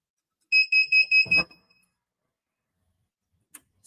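Four quick, high-pitched electronic beeps in a steady rhythm from a heat press timer, followed by a soft clunk and near silence.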